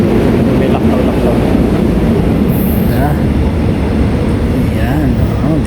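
A fast train rushes through a station in Korea in winter, a loud sustained roar with rumbling rails and brief high wheel squeals, continuing steadily throughout.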